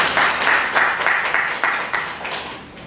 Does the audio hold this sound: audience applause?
yes